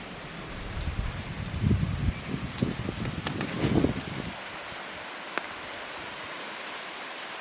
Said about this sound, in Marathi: तर तो हवेचा आवाज आहे